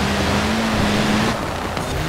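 A Land Rover Series III drives off-road through snow in Forza Horizon 4, its engine holding a steady droning note under constant rushing noise, briefly dipping near the end.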